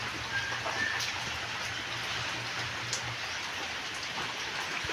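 Steady rain falls on surfaces outdoors, a dense continuous hiss with scattered nearby drips and a faint low hum beneath.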